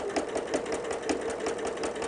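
Sewing machine back stitching through thick, bulky holiday quilt layers, a steady rapid mechanical chatter with regular rhythmic pulses, close and continuous.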